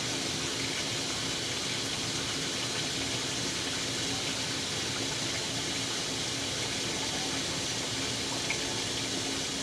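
An HE washing machine refills with water: a steady, even rush of water runs without a break for the whole stretch, at moderate loudness and with no talking.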